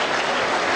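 A burst of audience applause, dense and fairly loud, filling the whole short moment without a break.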